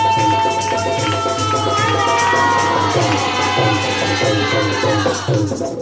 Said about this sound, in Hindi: आप सबकी तालियों में खुदा उनके खादम को सामने लाओगे।